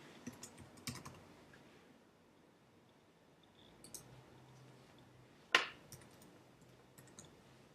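Typing on a computer keyboard: faint, sparse key clicks in a quiet room, with one sharper louder click partway through.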